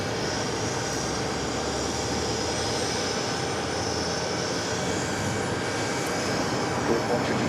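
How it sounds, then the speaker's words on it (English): A Korean Air Airbus A380 taxis at JFK airport, its jet engines giving a broad, steady roar with a high whine layered on top, loud and constant throughout. "Korean Air Flight 82 heading to Seoul. It's a 12-year-old A380 Super."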